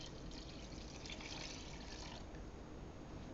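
Liquid pours into a soup pot while autumn bisque is being made, a steady, soft, even splashing that lasts the whole short stretch with no voices.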